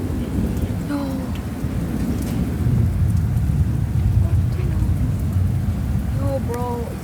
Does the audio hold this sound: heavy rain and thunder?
yes